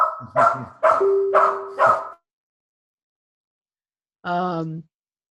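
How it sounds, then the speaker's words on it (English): A dog barks four or five times in quick succession, loud and close, then after a pause gives one longer, whining bark. "The dog was barking."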